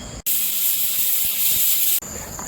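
A pressure cooker full of beef curry lets out a loud, steady jet of hissing steam for nearly two seconds, starting and stopping abruptly, close by with no voices.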